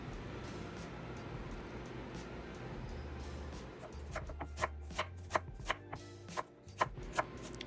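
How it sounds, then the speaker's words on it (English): An onion is chopped fine with a knife on a cutting board, with a run of sharp, regular knife taps coming in the second half over a steady low kitchen background hum. "And we're chopping up an onion somewhat fine."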